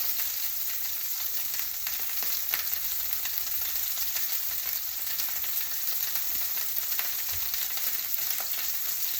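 Steak pan-frying, a loud continuous close sizzle with dense crackling spatter, steady throughout with no talking.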